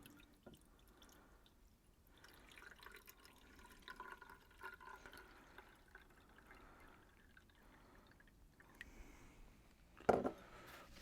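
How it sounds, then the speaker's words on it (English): Water pours softly into the removable side reservoir of a Swan steam press iron, a quiet trickling stream with a brief louder splash near the end. "pull out the reservoir there at the side and pour in the water"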